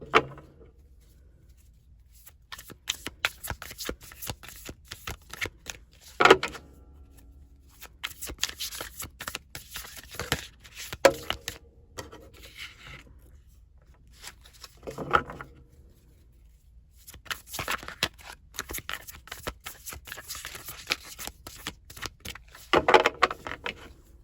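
Tarot cards shuffled by hand in repeated bursts of riffling and patter, close and fairly quiet, separated by short pauses.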